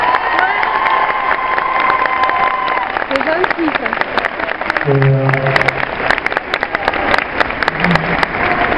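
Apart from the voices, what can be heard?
audience applauding a singer on stage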